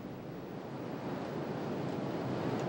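Sea waves wash onto a rocky Chilean shore where cut cochayuyo seaweed is dragged in, a steady, moderately faint surf roar with some wind across the microphone and no voices.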